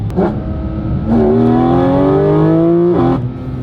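Porsche GT4 RS engine and intake roaring close up while driving, loud and continuous, with rising harmonic pitch as it accelerates through gears, a brief dip near the end before climbing again.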